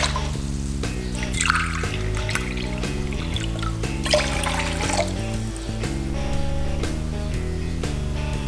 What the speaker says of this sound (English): So to a pan, add 3 cups of water.